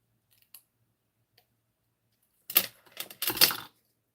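Scissors snip through a paper craft tag in a few quick, close cuts, a burst of crisp clicks and slices after a near-silent pause with a faint tap.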